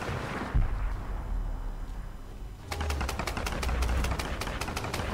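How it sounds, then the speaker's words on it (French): Rapid automatic gunfire in Tomb Raider multiplayer, where grenade launchers and shotguns are in play, starting abruptly after a thump and a quieter stretch, then a steady rattling string of evenly spaced shots, loud and close. "Ça tire de partout."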